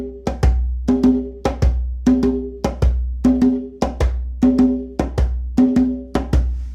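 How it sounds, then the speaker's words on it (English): Djembe hand drum playing only the accented loud strokes of a samba pattern, a steady series of about fourteen sharp, ringing hits in pairs and singles, close and loud with no other sounds between. "And I get rid of the softs and I just play the loud notes."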